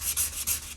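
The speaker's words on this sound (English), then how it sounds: "So today we are working on sanding all of these patches" Short rhythmic strokes of sandpaper rubbing across dried patches on an interior wall, three close scratchy passes in quick succession.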